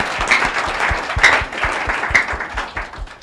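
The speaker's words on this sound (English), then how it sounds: "We clap for her." Audience applause in a hall at an event for the National Commission for Persons with Disabilities, a short burst of steady near clapping from a modest crowd.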